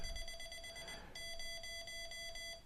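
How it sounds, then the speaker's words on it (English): K1EL keyer CW sidetone, a raspy pure square-wave beep keyed in rapid Morse dits and dahs with sharp edges, fairly faint and close, with no talking. "it's a pure square wave."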